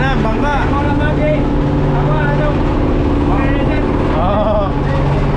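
A steady outrigger boat engine drones close by throughout, with people talking over it.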